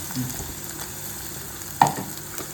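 Crushed pepper, garlic and ginger fry softly in a pan for a Kottayam-style fish curry, a faint steady sizzle broken by one brief clink of stirring.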